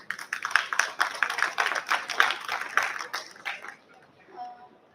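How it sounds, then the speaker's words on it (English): An audience at a book fair panel session applauds to greet the panelists, a dense, sustained round of many hands clapping that gradually thins and fades near the end. "I request you all to kindly greet them with a big applause."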